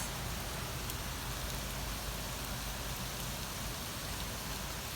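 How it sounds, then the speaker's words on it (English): Freezing rain and snow fall outdoors in a steady, dense hiss of ice pellets that stays constant and even throughout, with no voices. "It's just ice falling and snow. Ice rain and snow."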